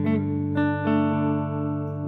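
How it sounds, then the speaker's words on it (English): Clean electric guitar tone through a Matchless amp model on a modeller, a few sustained strummed chords ringing out rich in harmonics, close and alone. "a Matchless, they're known for being high in harmonics and being super nice,"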